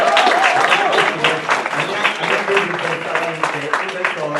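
An audience clapping at a certificate ceremony for Friulian language courses, with steady applause that is fairly close and has voices mixed in.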